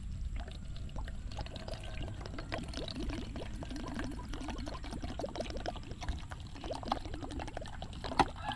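Water pours steadily from a container, splashing and trickling over freshly picked guavas being washed, a continuous close stream with small bursts of dribbling.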